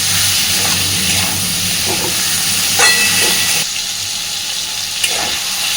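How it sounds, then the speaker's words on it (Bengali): Potato and pointed gourd (potol) fry in hot oil, a steady close sizzle and hiss running throughout with a few faint clinks, dipping slightly in level partway through. "আলু আর পটলটাকে আমি বেশ সুন্দর করে ভেজে নিয়েছি।"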